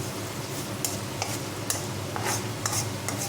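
Egg curry masala frying in a pan gives a steady close sizzle, broken by light scrapes and taps of the stirring spoon at irregular intervals.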